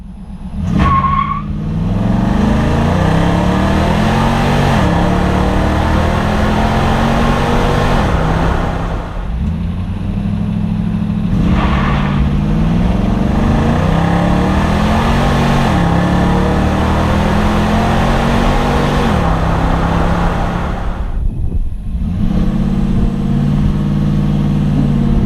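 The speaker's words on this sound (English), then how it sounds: "I tried to do a light launches and hard launches with the traction control on" A lifted pickup truck launches hard from a standstill with traction control on, engine roaring up through repeated rising revs and gear changes, loud and close, several launches in a row with brief pauses between.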